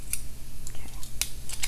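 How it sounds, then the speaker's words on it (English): Garlic clove scraped in short, scratchy strokes over a few brief bursts, close by, with faint household background and no clear speech during the strokes. "you can add a nice big clove of garlic. You wanna scrape that for me?"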